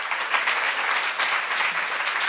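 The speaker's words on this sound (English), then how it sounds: "So now we can provide applause again" Steady, dense applause from a young women's event audience welcoming a guest to the stage, sustained and fairly loud throughout with no talk.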